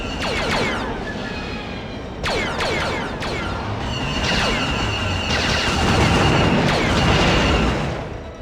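Blaster fire and explosions from Star Wars Starfighter on PlayStation 2, with sharp repeated laser shots, bursts and booming blasts piling up over a dense, continuous roar of game effects.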